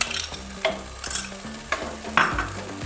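Sour curd (yogurt) being added and stirred into a sizzling paneer gravy in a pan, with scraping stirs and soft sizzle, loud bursts of spoon clatter at intervals, no talking.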